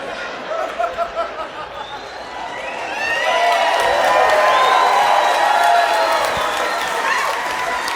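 An audience at a stand-up comedy show breaks into cheering and applause, swelling after about three seconds into a loud, sustained crowd roar, with a few scattered voices before it.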